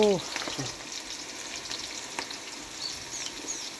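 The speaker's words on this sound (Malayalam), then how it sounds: "വെളിച്ചെണ്ണ ഒഴിച്ചിട്ട് ഇതാണ്ടോ ചക്ക അതിലേക്ക് ഇടുന്നുണ്ട് കേട്ടോ" Jackfruit pieces fry in coconut oil over a wood-fired stove, making a close, busy crackling sizzle with small pops and stirring clatter. A brief voice sounds at the very start.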